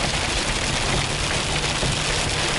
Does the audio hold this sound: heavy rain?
yes